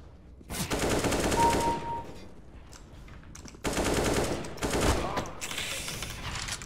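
Gunfire in the shooter CS:GO: several loud automatic bursts separated by short pauses, with sharp rapid cracks rattling close by and bits of other game noise between them.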